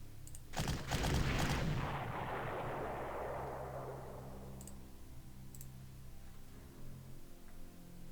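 Unit gunfire in the strategy game Panzer Corps Gold during Stalingrad fighting: a sharp burst of shots followed by a long rumbling decay, then a couple of faint clicks.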